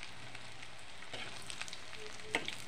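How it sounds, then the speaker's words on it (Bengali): Chicken pieces fry in hot oil in a pan for chicken chili rice, a soft steady sizzle with a few sharper crackles and a brief clink near the end. "বাকিগুলোও ভেজে নিচ্ছে"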